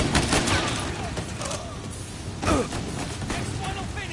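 Bursts of gunfire crack and rattle in a Mafia Definitive Edition shootout, rapid overlapping shots close by with whooshes, while a voice talks over the action.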